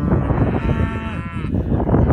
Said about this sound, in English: these young Brahmans are for sale, and so are these, obviously, Herefords